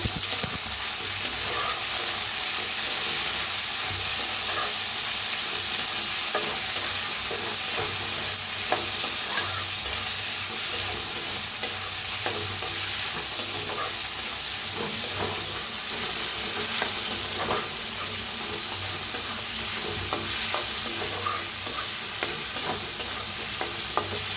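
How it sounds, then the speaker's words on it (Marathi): Grated raw mango roasting in a hot pan gives a steady, even sizzle with soft stirring scrapes, close and continuous throughout, with no talking. "आता कैरी किसून घेतलेली त्याला भाजून घ्यायचा."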